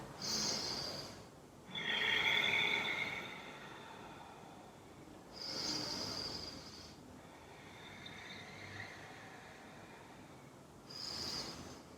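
Slow, deep breaths are drawn and released through the nose during a yoga forward fold, with three or four soft, close breath cycles separated by quiet pauses.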